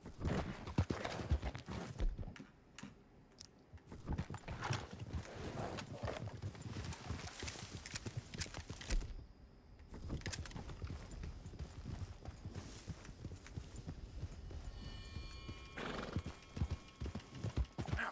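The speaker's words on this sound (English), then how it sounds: "Gotta take the horse, go to the stable." A horse clip-clops steadily on hard ground near the stable, hooves sounding close and quiet, with a couple of brief whinnies mixed in.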